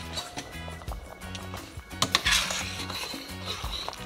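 Pimento berries are dropped into a pot of Jamaican ital stew peas, giving light clinks and taps against the pot amid soft kitchen clatter, close and fairly quiet.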